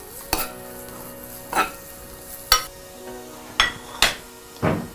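Stirring food in a sizzling pan while carrot and chiffonade cook with cream and butter; six sharp spoon scrapes and clinks come at irregular intervals over a steady, quiet sizzle, close by, with no talking.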